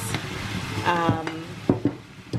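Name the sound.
stir-frying beef mince in a pan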